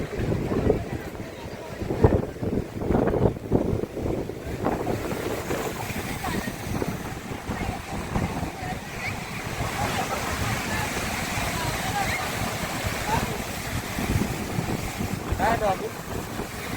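Heavy rain and large waves at the Worli seafront in Mumbai produce a constant roar of surf and wind buffeting close by, while people talk intermittently over the noise.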